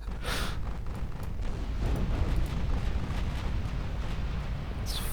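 Torpedo hits in a naval warfare game of 1950s warships, heard as a continuous heavy, rumbling roar of explosions with muffled booms swelling and fading, no voices.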